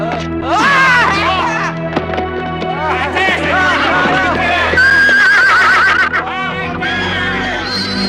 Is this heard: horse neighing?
yes